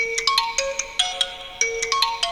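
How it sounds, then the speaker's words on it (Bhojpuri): A phone ringtone plays alone in a melodic, repeating pattern of bright electronic notes, fairly loud and close, with no talking over it. "बाबूजी के फोन?"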